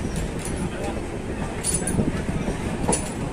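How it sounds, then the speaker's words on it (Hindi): A freight train passes at close range in Maharashtra, producing a steady rumble with faint rhythmic wheel clicks and a few squealing accents over moderately loud, continuous noise. "मालगाड़ी दिख रही है, फ्राइट जो ट्रेन आपको देखने को मिलेगी यहाँ पे"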